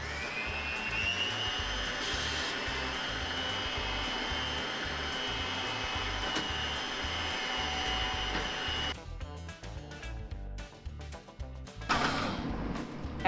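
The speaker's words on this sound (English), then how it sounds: "I am going to mix this with the dough hooks for" An electric stand mixer kneads bread dough with dough hooks, giving a steady, close motor whine and hum that runs unbroken, then drops and shifts in pitch near the end before surging again.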